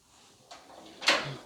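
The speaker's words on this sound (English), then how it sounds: "The drawers open up." Drawers on an SGS tool cart slide open in two quick metallic runs, the second louder and closer, with no talking over them.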